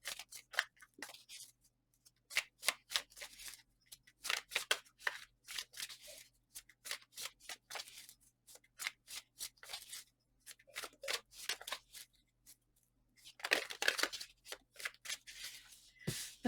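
Thick tarot deck being shuffled by hand, quick bursts of crisp card riffles and slaps close up, repeated in uneven clusters with brief quiet gaps between them.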